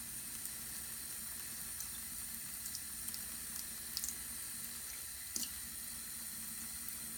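A makeup brush is rinsed under a running kitchen or bathroom tap, giving a steady, moderate stream of water splashing over bristles, with a few faint clinks and drips near the middle and end, no voices.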